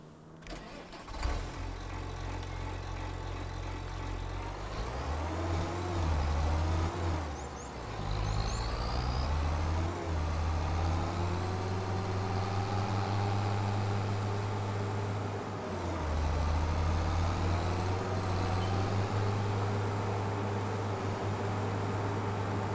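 A tractor engine in the farming game Farming Simulator 25 starts up with a low rumble, then settles into a steady, loud, deep drone as it drives, rising and dipping in pitch at a few moments.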